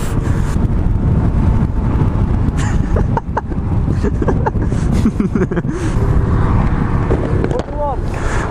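A Honda CRF250 motorbike ridden two-up on the road, with loud, steady wind buffeting the microphone throughout and the engine mostly buried beneath it.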